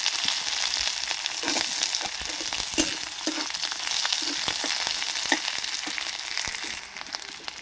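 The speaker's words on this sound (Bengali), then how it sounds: "পেঁয়াজটা হালকা করে ভাজা হয়ে গেছে" Onion frying in hot oil with whole dried red chillies and five-spice seeds, a steady dense sizzle with scattered crackles and pops, close and alone.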